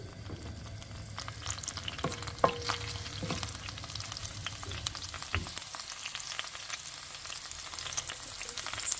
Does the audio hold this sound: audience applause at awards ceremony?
no